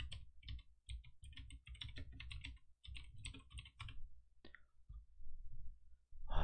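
Rapid typing on a computer keyboard during a live stock-market broadcast: dense bursts of close, crisp key clicks with brief pauses between runs and a louder clack at the very end, with no voices.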